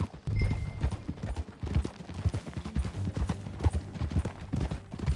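Horse hooves clip-clop at a steady riding rhythm in Red Dead Redemption 2, close and fairly loud over a low rumbling ground bed, with a brief whinny-like tone near the start and no talk.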